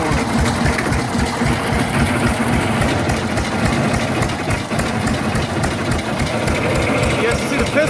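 A 1917 Fairbanks Morse Z 6HP hit-and-miss engine mounted on a 1957 Chevy truck chassis runs with a loud, continuous rapid chugging and mechanical clatter, close by, with a voice talking over it.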